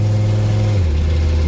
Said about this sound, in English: Obviously it's got an exhaust manifold studs broken on the V10.